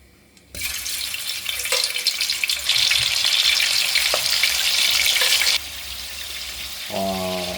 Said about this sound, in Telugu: ఆయిల్ మరీ వేడి కాకముందే మనము ఉడికించిన మటన్ వేసుకుందాం